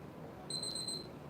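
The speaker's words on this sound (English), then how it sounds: "little timer went off" A kitchen timer goes off with a single short, high electronic beep, faint against a quiet room background.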